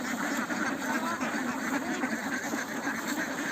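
A flock of farm ducks quacking busily and continuously while being fed, a dense close chorus of overlapping calls.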